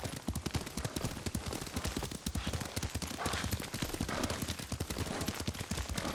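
Horse hooves pound in a steady, fast gallop-rhythm clip-clop as a rider travels across the Ghost of Tsushima video game world, loud and continuous for the whole stretch, with a busy background bed beneath.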